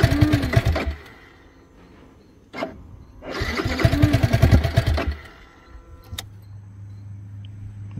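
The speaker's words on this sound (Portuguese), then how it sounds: "Seguida a moto morre." A 2024 Yamaha R15 motorcycle with a fault revs in two loud bursts, then its engine stalls and cuts out, leaving a low steady hum, with no talk.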